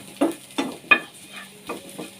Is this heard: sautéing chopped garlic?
yes